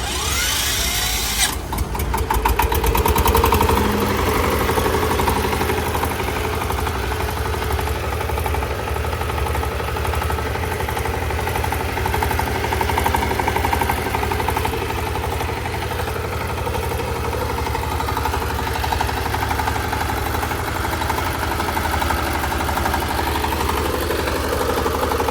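A Zubr 1105 diesel mini tractor cranks and catches, then settles into a steady, loud running chug that holds close by for the rest of the clip without any voices.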